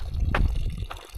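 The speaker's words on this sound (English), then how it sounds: "spigot where I can get water" Water splashing briefly from a small spigot along a mountain hiking trail, a short gush and trickle heard close up.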